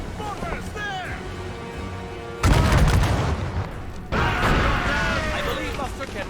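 Mortar fire booms from a sailing warship in the naval combat of Assassin's Creed Rogue, two heavy loud blasts a couple of seconds apart, each trailing into a rumbling crash beneath shouted crew commands and music.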